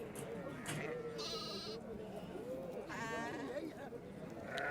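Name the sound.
sheep bleating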